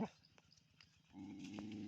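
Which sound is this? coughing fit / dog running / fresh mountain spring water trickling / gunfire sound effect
dog running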